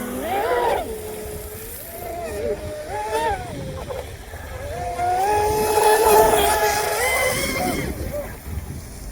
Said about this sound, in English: She might be a 70-mile-an-hour boat.